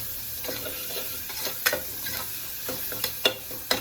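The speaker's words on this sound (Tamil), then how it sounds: "வெங்காயம் நல்லா வதங்கணும்." Onions sautéing in a pan with a soft steady sizzle and intermittent spatula scrapes, a few sharper clacks near the end, close-up and with no voices.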